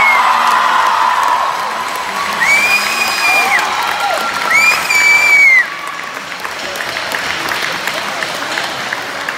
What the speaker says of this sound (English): Thank you all so much for your applause and enthusiasm.